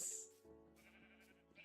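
A sheep bleats in a video game, a short wavering cry with a bright opening that trails into a drawn-out tone, faint and alone.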